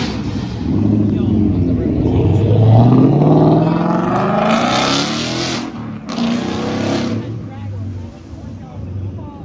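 A supercharged car engine revs loudly at an underground car show, rising and falling in pitch over a steady rumble, with people talking nearby throughout.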